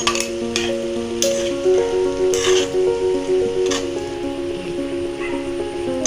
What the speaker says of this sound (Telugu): రైస్ వేసి బాగా కలుపుతామండి